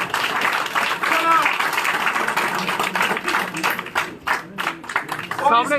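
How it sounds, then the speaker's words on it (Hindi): Crowd clapping at a party office as a former MLA is welcomed into the BJP, uneven and patchy applause mixed with people talking, thinning out toward the end. "जोरदार तालियों के साथ"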